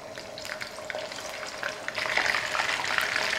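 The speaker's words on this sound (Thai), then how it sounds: "พอน้ำมันร้อนแล้วก็ปลาดุกลงไปทอดได้เลย" Catfish pieces fry in plenty of hot vegetable oil in a wok, giving a steady close sizzle and crackle that swells louder partway through, with no voices.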